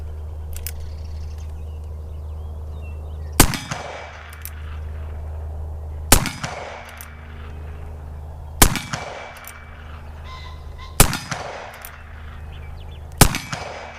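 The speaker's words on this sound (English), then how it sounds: "So I'm going to shoot 5 of those on the big steel there." Five loud gunshots from a Pietta 1873 single action revolver firing .357 Magnum rounds at a large steel target, spaced a few seconds apart, each sharp crack ringing briefly with a metallic hit over a steady low background hum.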